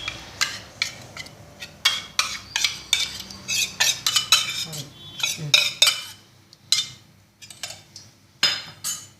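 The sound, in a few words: mixing maida flour, salt and soaked semolina by hand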